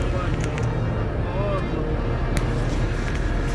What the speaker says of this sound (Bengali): দুদিকেই এখন গাড়ি যাচ্ছে